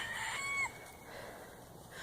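Chickens on a farm, with bright crowing-like calls and clucks in the first half second, then a quieter stretch of faint fowl noise in the barnyard.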